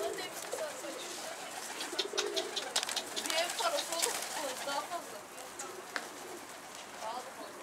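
Pigeons coo softly around a loft, with scattered chirps and wing flutters amid a busy bird background while someone talks nearby.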